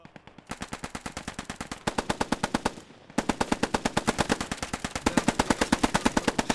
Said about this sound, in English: They're trying to shoot through the floor at each other.